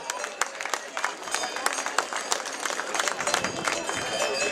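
A festival crowd claps steadily for cattle breeders parading past at the Fête du Fin Gras du Mézenc, a dense patter of applause with a voice talking over it.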